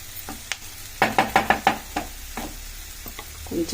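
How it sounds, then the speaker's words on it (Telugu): Bitter gourd fry being scraped off the bottom of a pan with a spatula, a quick run of sharp scraping strokes over a low sizzle, close and fairly loud. "కొంచెము అడుగు అంటినా ఇట్లా గీకేస్తాను"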